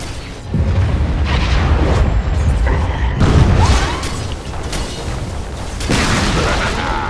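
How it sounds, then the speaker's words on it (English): Dota 2 battle sounds from a tower under attack: a dense, loud run of booming impacts and bursts, with heavy low rumble and repeated blasts across the span, and a voice talking faintly underneath. "Radiant's top tower is under attack."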